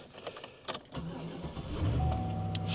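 A pickup truck engine cranks and catches on a snowy morning, settling into a steady idle with a rising hum from the cab's heater and defrost fans, close and loud with no talk.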